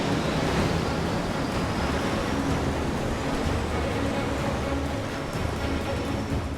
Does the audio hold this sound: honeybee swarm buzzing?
no